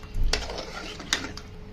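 A pressure cooker lid set on a pot of mutton drumstick curry gives two distinct metallic clinks, one early and one near the middle, close by, with light handling rattle between them.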